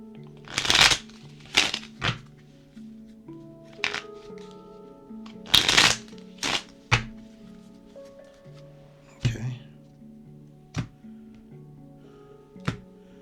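A regular deck of playing cards being shuffled in several sharp riffling bursts spaced a second or so apart, close and distinct, with quiet background music running steadily underneath.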